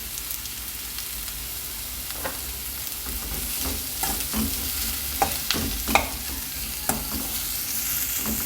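Onion sautés with salt in a pan, a steady gentle sizzle broken by scattered scraping and tapping stirs that grow busier toward the end.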